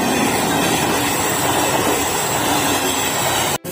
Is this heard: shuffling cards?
no